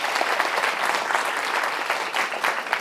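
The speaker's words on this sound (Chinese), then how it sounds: "来，鼓掌一下。" An audience applauds at a lecture on Seth psychology, with dense, steady clapping from many hands that holds throughout without a break.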